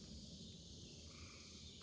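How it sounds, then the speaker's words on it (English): Tree frogs calling steadily near the Meramec River on a summer hike, a dense, continuous chorus of trilling calls layered with insect buzz, with no pauses. "tree frogs."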